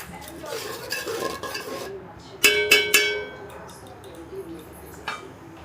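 Spice paste being stirred and fried in an iron wok, with a burst of sharp metal spoon scrapes and clanks against the pan midway, softer sizzling and stirring before and after.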